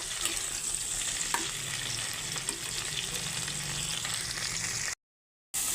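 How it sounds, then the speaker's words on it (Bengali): Cauliflower florets and potatoes fry together in a pan, giving a dense, even sizzle with occasional stirring clicks of a spatula, close and continuous before cutting off abruptly near the end. "আমি ফুলকপিগুলো আলুর সঙ্গে দিয়ে দিয়েছি, দিয়ে এখন ভেজে নিচ্ছি একসঙ্গে"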